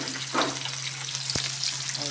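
Sautéing in a pan before tilapia goes in gives a steady close sizzle with a couple of brief clatters of a utensil against the pan, continuous and fairly loud.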